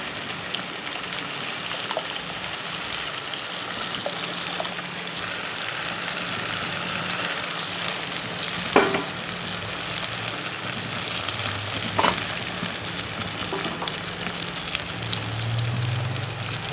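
Ground lentil paste, poured into a pan while cooking black nightshade leaf kuzhambu, fries with a steady, moderate sizzle and bubbling that carries on throughout with a few faint clicks and no talking.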